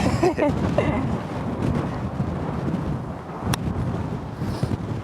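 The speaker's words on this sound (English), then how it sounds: "Nice gust of wind for you." A gust of wind blows across a golf course, buffeting the microphone in a loud rumbling rush that eases and swells again, with a few faint outdoor knocks.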